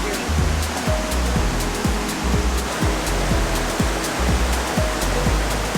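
A river swollen with dark, muddy rainy-season water in Mexico rushes past in a dense, steady roar, with rhythmic low thumps running beneath the broadband wash.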